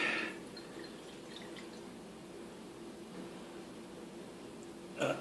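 Raspberry and apple cider is poured slowly from a bottle, a soft steady trickle and drip close by with faint background noise throughout.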